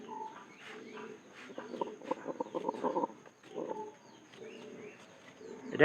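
An indoor-kept pigeon gives a series of deep, throaty cooing calls in short repeated bursts, fairly close and clear, with a brief pause midway before the calling resumes.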